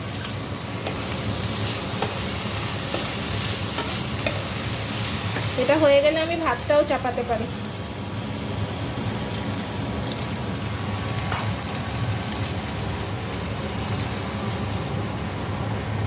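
Rohu fish fries in a pan with a steady, dense sizzle throughout, while someone talks briefly over it partway through.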